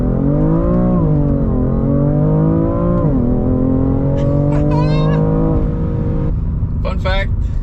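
An automatic car pulls away and accelerates, the engine note climbing steadily through gear changes with loud, close whine and rumble, while a person talks over it and a brief chirp of another sound cuts in near the end.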